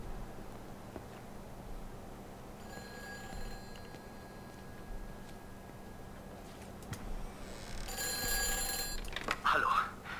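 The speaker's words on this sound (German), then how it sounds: "Das Telefon klingelt." A telephone rings inside the video game Everybody's Gone to the Rapture, bright repeating bell tones over a quiet ambient bed, the ringing strongest toward the end, with a voice speaking faintly.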